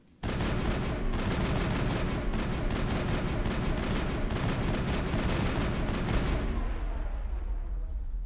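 Sustained gunfire in Mass Effect, a loud, dense barrage of rapid shots that starts abruptly and runs unbroken for several seconds before thinning into a fading rumble.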